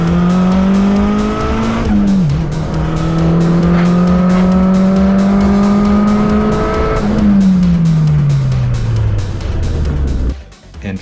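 Boosted Honda race car at 20 pounds of boost accelerating hard, its engine climbing through gears with a downshift, tires squealing, loud and close, trailing off at the end.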